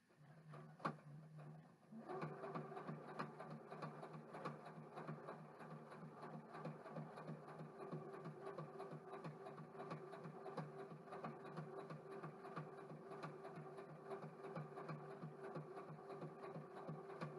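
A sewing machine runs steadily at a moderate speed while stitching fabric. Its whirring motor hum with rapid needle ticking starts after a brief pause and continues close by without interruption, and no one speaks.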